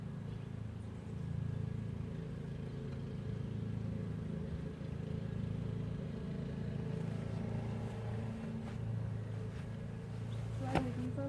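Honey bees hum around a Flow Hive while honey is being extracted outdoors, a soft, continuous low drone that holds steady throughout, faint and without speech.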